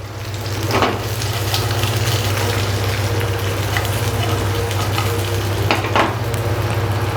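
Fried chicken 65 pieces tossed in sauce in a pan give a steady sizzle and frying hiss, with stirring scrapes and a couple of brief louder clatters, close and continuous with no talking.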